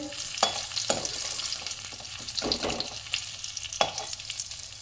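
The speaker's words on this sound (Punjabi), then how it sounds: "ਜੋ ਤੇਲ ਬਚਿਆ ਆਪਾਂ ਇਹਦੇ ਵਿੱਚ ਤੜਕਾ ਭੁੰਨ ਲਾਂਗੇ" A tempering fries in leftover mustard oil for a matar mushroom curry. A close, steady sizzle is broken every second or so by brief scraping stirs in the pan.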